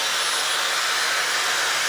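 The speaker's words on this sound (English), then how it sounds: "When you turn on the hairdryer," A Dyson Supersonic hair dryer on its lowest setting blows with a steady, loud, airy whoosh, unchanging throughout and close up.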